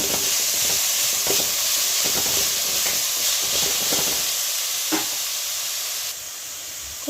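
Vegetables for a masala dosa filling, with carrot, salt and turmeric, sizzle steadily in a hot pan while a spatula scrapes and stirs in irregular strokes, close and continuous, with no talking.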